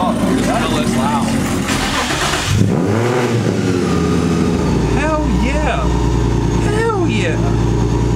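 A supercharged Nissan 350Z with a DE engine and Corsa Performance exhaust roars loudly and continuously, with the revs swinging up and down through several sweeps as someone talks over the engine.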